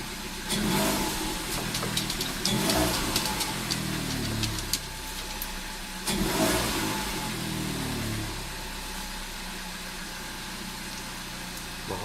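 A Citroën DS3 engine, just after intake valve cleaning, restarts and idles with two surging revs early on, then settles into a steady, fairly loud idle.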